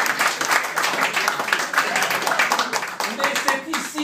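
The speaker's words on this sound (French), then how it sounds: "j'avais mis entre parenthèses un applaudissement pour Anne" A crowd claps warmly for a woman named Anne in the middle of a speech. The sound is a fairly close, continuous patter of hands lasting several seconds, with faint murmuring voices mixed in.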